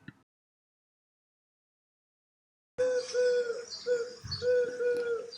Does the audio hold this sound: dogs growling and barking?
no